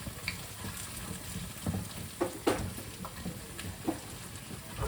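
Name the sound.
frying thinly sliced bitter gourd with potatoes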